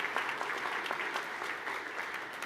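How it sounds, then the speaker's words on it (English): A commencement audience applauds during a graduation address, producing a dense, even wash of clapping from a large crowd that holds steady for the whole stretch without voices. "You can clap to that."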